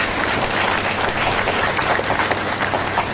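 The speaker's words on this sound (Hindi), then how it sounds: "तो एक जोरदार ताली बजा दीजिए अपने शिक्षक के लिए।" Steady, dense applause from a school audience clapping for their teacher at a cultural function, many hands beating together loudly and evenly throughout with no voices on top.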